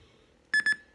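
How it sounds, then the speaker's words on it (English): An iHome IDL44 alarm clock sounding its alarm tone, two quick close electronic beeps in a short burst. "that alarm is going off right now"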